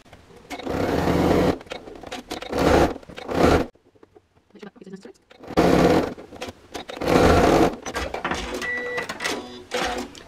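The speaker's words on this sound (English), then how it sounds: "we're going to stitch down both sides, down both sides and the bottom, just to hold everything in place" Domestic sewing machine stitches down both sides and the bottom of a small fabric coin purse front pocket, running in several loud bursts of rapid whirring with short pauses and quieter handling sounds between runs.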